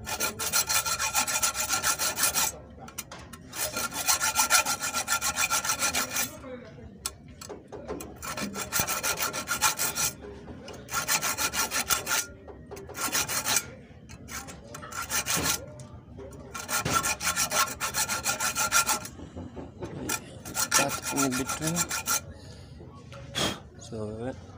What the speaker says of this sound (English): So you first cut in between the threads to separate them to see where they pass.